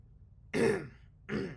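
Two short throat clearings, a brief raspy burst followed by a second one after a pause, close and fairly loud against a quiet background.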